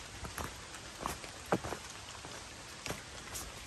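Rain patters steadily on the Appalachian Trail, a dense close hiss broken by a few sharper drops striking a nearby surface, with no one talking.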